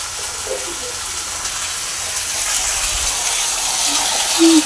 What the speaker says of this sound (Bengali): এখন ভেজে রাখা বেগুনগুলো এতে দিয়ে দেব।